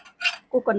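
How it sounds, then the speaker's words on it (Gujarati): Pressure cooker lid being closed while cooking kantola shaak: a quick series of metallic clinks and scrapes, close and brief, with no talk over it. "ઢાંકણું બંધ કરી દેવું"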